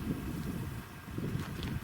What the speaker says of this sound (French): il y a le vent qui se lève